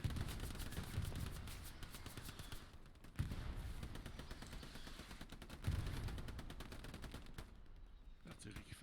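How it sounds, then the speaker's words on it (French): Artillery strikes in a multiplayer war video game land amid dense, continuous gunfire, with sharp heavy impacts punching through a constant crackle of shots and voices talking underneath. "L'artillerie qui frappe là"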